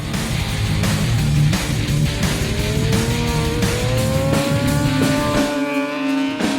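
A racing motorcycle climbs uphill at speed with a loud, steady high-revving engine whine that rises in pitch as it accelerates, close and continuous, with no talking.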